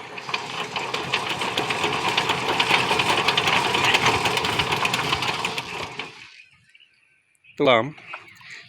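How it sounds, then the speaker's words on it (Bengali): A hand-cranked China diesel engine with a starting problem runs in a fast, rhythmic chugging clatter for about six seconds, then falls silent before a short burst of voice. "হ্যান্ডেল নিয়ে ইঞ্জিনটাকে একটু রানিং করে দেখাও"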